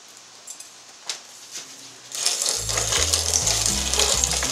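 Hand-cranked wheat grinder milling hard white wheat on a tightened, finer setting: a few faint clicks at first, then a steady loud grinding rasp with a low rhythmic rumble from the crank turning.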